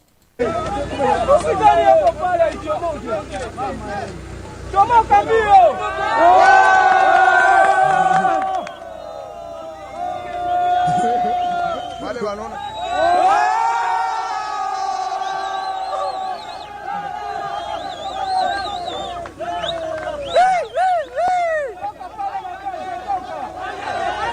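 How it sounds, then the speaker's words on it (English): A crowd cheering and laughing, heard through a played video: loud shouting voices and rising whoops over babble, with swells and drops in intensity and a busy mix of voices throughout. "Listen to people cheering and like laughing too."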